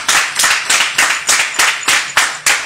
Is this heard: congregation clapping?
yes